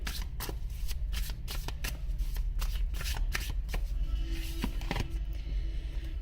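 A tarot card deck is shuffled in a continuous run of close, crisp riffling and flicking with no talking over it.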